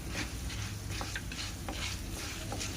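Coriander seeds and curry leaves roasting in a pan are stirred, giving a soft continuous sizzle with light rustling and scraping strokes of the spoon at an even pace, close but quiet, no voices.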